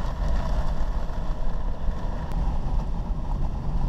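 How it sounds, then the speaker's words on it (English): Strong, steady wind roars across an open field during a storm with rear flank downdraft gustnados, a loud broadband rush buffeting the microphone continuously with no pauses. "Wind's blowing fucking crazy. But it's blowing at the storm."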